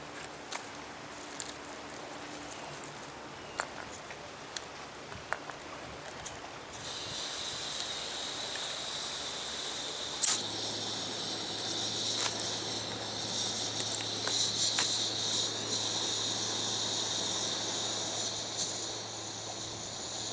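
A camping stove burner flares alight outdoors in gusty wind, then a steady broad hissing roar continues close by, with scattered light clicks and handling noises before ignition.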